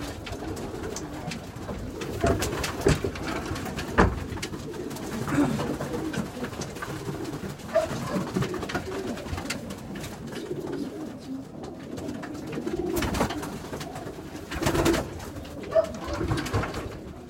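Line-bred show pigeons coo steadily in a loft, soft overlapping calls close by, with occasional bumps and rustles throughout.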